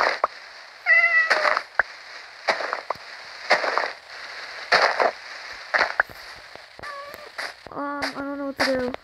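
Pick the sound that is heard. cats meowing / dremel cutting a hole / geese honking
cats meowing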